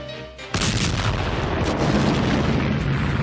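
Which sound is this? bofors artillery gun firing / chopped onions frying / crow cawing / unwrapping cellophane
bofors artillery gun firing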